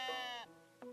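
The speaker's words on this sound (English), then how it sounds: "Yes, and it has hordes of evil demon sheep." A sheep in the video game Tiny Glade gives a short bright bleat followed by a second brief bleat, close and alone.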